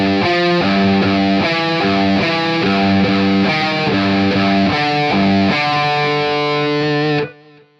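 A distorted electric guitar plays a chugging, rhythmic riff of repeated chords in short bursts, loud and close, then stops abruptly.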